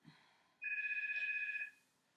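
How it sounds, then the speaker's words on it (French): A telephone bell rings in a quiet room during an indoor Pilates session, one sustained trilling burst of about a second, loud and close, with no talk over it. "c'est le téléphone qui sonne"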